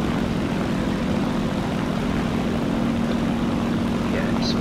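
A propeller aircraft drones steadily in War Thunder during an island flight, a continuous engine hum with a low tonal buzz.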